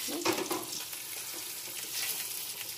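Whole spice tempering (phoron) fries in a wok (kadai) for a winter-vegetable khichuri, a faint, even sizzle with a brief clatter near the start.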